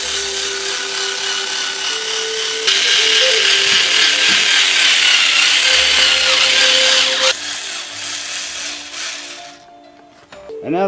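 An electric power tool works wood in a drum-making shop, a loud steady mechanical whirring that jumps louder partway through and holds, then drops away near the end.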